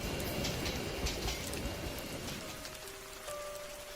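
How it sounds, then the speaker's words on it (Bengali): Heavy rain pours at a deserted village railway station at night, a dense, steady hiss with no voices, and a faint thin whistle-like tone emerges near the end. "শুধু ঝুম বৃষ্টি ঝরছে"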